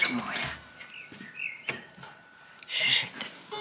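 Blackbirds call from unseen perches outdoors, with scattered chirps and short whistled phrases coming at irregular moments. The calls sound moderately close against a quiet background.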